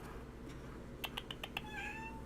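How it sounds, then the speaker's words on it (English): A house cat meows once, close and clear, with a short drawn-out rising cry near the end, following a quick series of soft clicking taps over a low indoor hum. "I know you're a cat."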